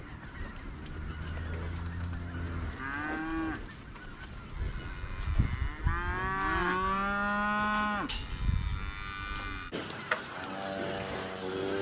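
Cattle being pushed up to winter pasture moo repeatedly, several long low calls overlapping at moderate distance, with some higher honking calls mixed in and steady outdoor background throughout.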